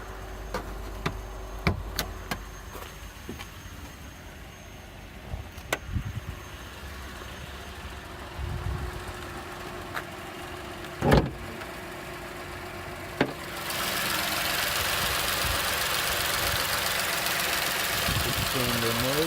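A 2007 Ford Edge SEL engine idles with a low, even hum heard from a distance, broken by scattered clicks and knocks from handling nearby, and louder broadband noise near the end; a person talks at times.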